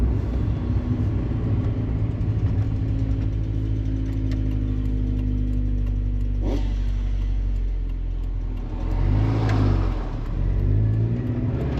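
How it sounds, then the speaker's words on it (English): A turbocharged 1997 Mazda Miata NA engine rumbles steadily up close, then revs sharply twice with rising, roaring bursts and turbo flutter before settling back; no voices. "It is turbocharged, as you'll hear pretty soon. You might have heard some flutter right there."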